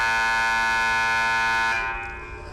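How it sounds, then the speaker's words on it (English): A scorer's table buzzer at a girls varsity basketball game blares in one long, loud, steady harmonic blast that holds for nearly two seconds, then cuts off and leaves a fading arena echo. "He's the one blowing that buzzer"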